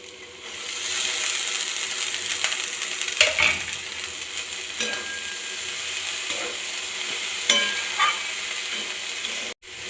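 Drumstick flowers sizzling with turmeric in a hot pan, a continuous close frying hiss broken by several scraping, clattering strokes of a spatula stirring against the metal.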